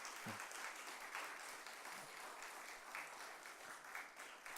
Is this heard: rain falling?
no